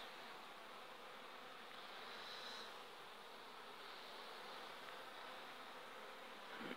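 A bee buzzing on flowering thistle outdoors, a faint continuous drone with a slight rise and fall in pitch, steady for several seconds with no talking.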